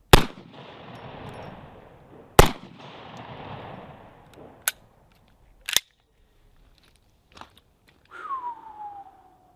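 Large-calibre rifle shots, four sharp loud reports spaced a second or two apart, the first two followed by a rolling echo across open ground, with a final whining tail near the end.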